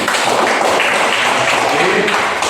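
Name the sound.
class applauding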